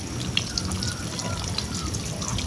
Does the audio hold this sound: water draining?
yes